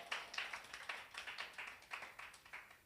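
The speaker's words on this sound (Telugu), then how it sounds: "చప్పట్లు కొట్టడానికి కొట్టండి చప్పట్లు" An audience claps in steady rhythmic unison, about a dozen crisp evenly spaced claps, fairly faint and with no talk over them.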